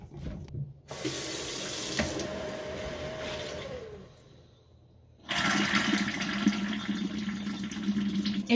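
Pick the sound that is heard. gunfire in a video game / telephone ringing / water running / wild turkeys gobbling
water running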